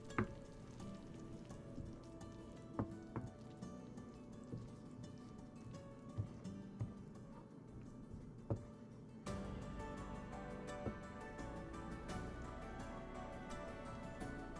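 Butter for a garlic scampi sauce sizzles and spits steadily in a hot pan, with occasional sharper clicks from stirring and a louder, denser frying hiss in the final stretch.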